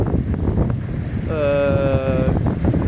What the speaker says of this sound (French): il y a un peu de vent, la météo c'est pas ça